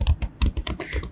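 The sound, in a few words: typing a layer name on a computer keyboard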